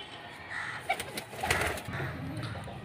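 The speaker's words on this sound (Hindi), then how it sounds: "देखिए कबूतर वेट कर रहे हैं कि अभी हमको दाना दिया जाए" Pigeons at a club loft coo softly while waiting to be fed, a low murmuring chorus with a few brief wing flutters and scattered calls, fairly faint and close by.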